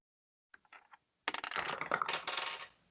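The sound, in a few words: dice rolled for perception check in tabletop game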